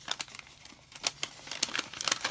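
A small plastic bag of unicorn and rainbow embellishments handled up close, giving a quick series of sharp crinkles and rustles in irregular bursts.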